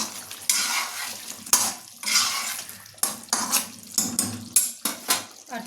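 Egg curry (dim kosha) simmering in a pan on a home stove, with repeated scraping and clinking of a spoon against the pan over a steady bubbling hiss, close and fairly loud.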